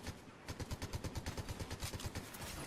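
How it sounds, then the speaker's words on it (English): Rapid, evenly spaced gunfire bursts crackle through a multiplayer shooter video game while under sniper fire, a steady string of sharp shots at moderate loudness with no talk over them. "we're getting sniped at right here"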